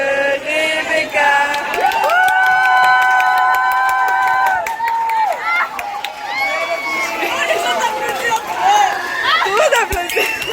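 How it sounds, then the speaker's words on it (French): Guests at a birthday party cheering and clapping after singing, a sustained sung tone giving way to excited crowd voices, shouts and scattered applause, close and boisterous throughout. "Tout le monde applaudit."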